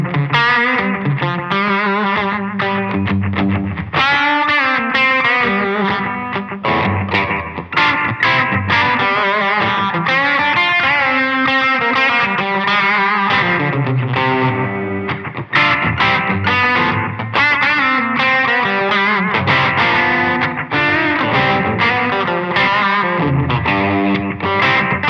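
Heavily overdriven electric guitar through a Dagger overdrive distortion pedal, gain turned down a bit, playing a dense rock part, loud and continuous with gritty, saturated tone and a touch of ambience.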